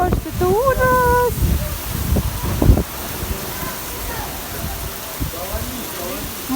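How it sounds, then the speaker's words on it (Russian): Heavy rain pours during a strong thunderstorm, a steady broadband hiss and patter throughout, with a thump or rumble near the start and some short wavering tones early on over the downpour. "смотрите, какой нереальный просто дождь"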